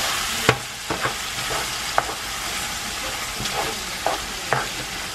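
Ground beef with onion and tomato being stirred in a hot pan, a continuous loud sizzle broken by sharp scraping clacks of the spoon every second or so, with no voices.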